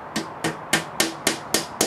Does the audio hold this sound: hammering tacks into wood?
yes